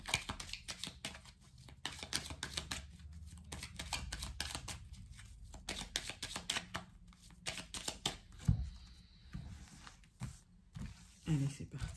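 Tarot oracle cards are shuffled and handled in quick riffling bursts, close and crisp, with pauses between shuffles and a few soft taps as cards are laid down.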